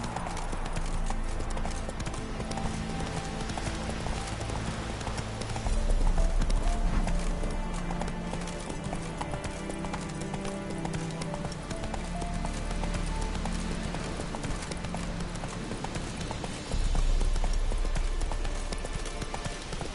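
Roach's hooves clip-clop at a steady galloping rhythm in The Witcher 3. Game music and ambience play underneath, with occasional louder low thumps.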